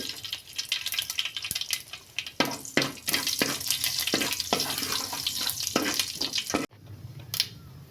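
Mustard seeds splutter in hot oil for a leafy stir-fried thoran, a close, continuous crackle with sharp popping bursts that stops abruptly near the end, followed by a quieter lingering sizzle.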